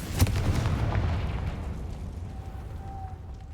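A Confringo fire spell from the Hogwarts Legacy video game goes off as one loud, close booming blast. Its rumbling decay fades over several seconds, and a faint high tone follows.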